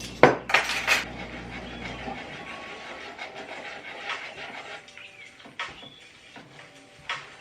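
A spoon clinks and scrapes against a bowl while banana bread batter with flour is stirred, starting with a few sharp knocks, then softer, irregular scraping close by.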